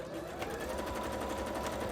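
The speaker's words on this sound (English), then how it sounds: "Oh my god, sewing machine, you're doing fantastic, fantastic." A sewing machine stitches fabric for a bra in a steady, rapid mechanical chatter, close and continuous with no voices.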